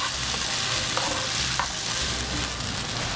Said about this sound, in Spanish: Ahora le vamos a poner la lengua. Ahora la vamos a sofreír.